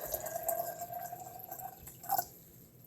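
Water pours into a container of salt water, a faint, thin trickling stream with small splashy drips, quiet and close, with no talk.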